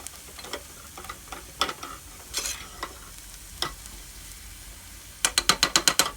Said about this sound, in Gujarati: ગેસને બંધ કરી અને બરાબર મિક્સ કરી